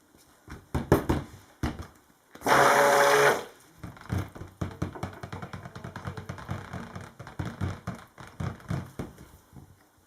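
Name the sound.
stick blender mixing cold process soap batter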